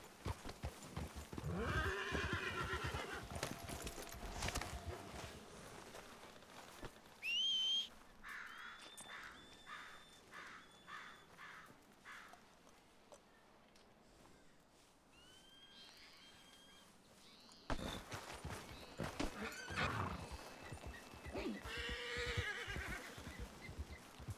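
A horse in a western video game neighs and whinnies loudly up close while hooves clip-clop along steadily, with bird calls and whistles rising from the background.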